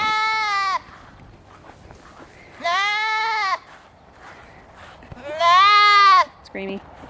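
Hungry sheep on a farm pasture bleat loudly and close by, three long wavering calls separated by short pauses, with a quieter bleat at the end.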